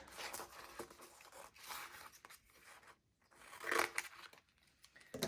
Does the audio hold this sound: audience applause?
no